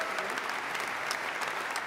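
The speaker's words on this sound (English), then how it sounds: "Please give him a huge round of applause." A live audience at a cooking competition grand final claps in sustained, dense applause, loud and close throughout.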